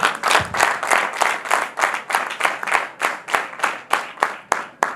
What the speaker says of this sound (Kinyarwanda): mwikomera amashyi kuko muri imena